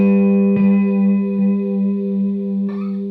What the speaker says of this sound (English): Memory Man now sounds like this.